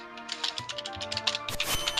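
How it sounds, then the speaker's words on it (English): Rapid clattering keystrokes on a keyboard tap out a quick irregular rhythm over a tonal musical background. "Just typing something real quick."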